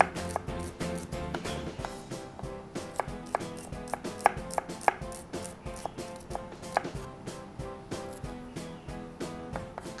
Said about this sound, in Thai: เราก็จะมาซอยหอมพริกแล้วก็ขึ้นฉ่ายกันต่อค่ะ